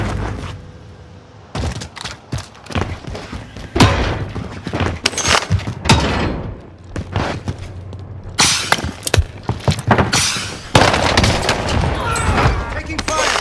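Video game gunfire crackles in sharp, irregular volleys of shots, loud and close, mixed with shattering impacts while players talk over the shooting.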